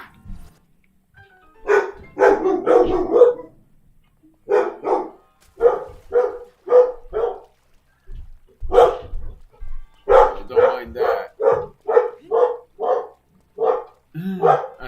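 A puppy barks in repeated sharp bursts indoors, loud and close, coming in clusters with short pauses between them, while a person speaks briefly now and then.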